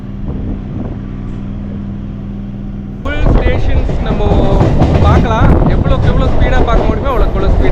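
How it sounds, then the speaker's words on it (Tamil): Chennai MRTS suburban train pulling out of Velachery: a steady low rumble gives way at about three seconds to louder, fuller rolling noise and clatter as it gets moving, with voices talking over it. "இங்கே வேலைச்சேரியிலேருந்து ட்ரெயின் ஸ்டார்ட் ஆகிடுச்சு"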